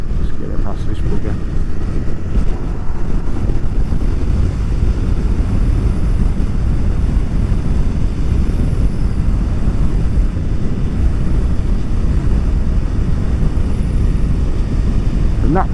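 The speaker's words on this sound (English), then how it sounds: "And that wind around my helmet," Steady, loud, smooth wind roar rushes around a rider's helmet on a Honda NC750XA motorcycle at speed, a constant broadband rush that runs throughout with engine and road noise underneath.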